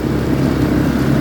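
A Muravei motor scooter fitted with a Viper Storm 150cc 157QMJ engine drives in second gear, its loud engine drone steady and continuous up close.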